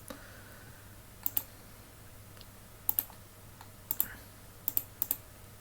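Bursts of computer keyboard typing while a simple program is written for a WinCC SCADA simulation in TIA Portal: quick pairs of sharp key clicks repeat at short intervals over a low steady hum, close and fairly quiet, with no talking.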